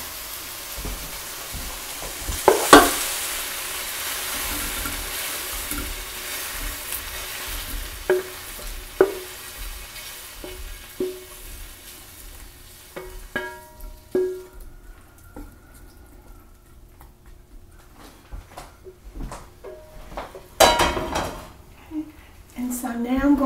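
Browned beef being scraped and spooned from a pan into a crock pot, with soft scrapes, clinks and taps of utensil against cookware and a faint sizzle, under occasional talk.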